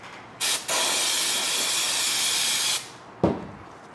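Carburetor cleaner sprayed onto Ford transmission parts during a service, a loud close hiss in one short burst followed by a long steady blast of about two seconds, then a brief final spurt.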